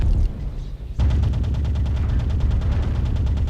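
Mech weapons in the game Mechwarrior Online open fire in a rapid, steady string of loud, closely spaced bursts after a brief quieter moment, continuing without a break.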